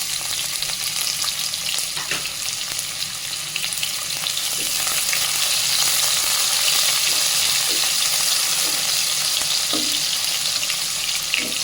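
Onions frying in oil with salt added, a loud continuous sizzle with occasional stirring clinks and scrapes throughout, no voices.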